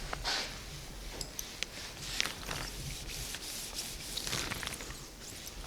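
Clay bar rubbed by hand over rough car paint, a steady close scrubbing and rasping with short strokes and a few brief squeaks, with no talking.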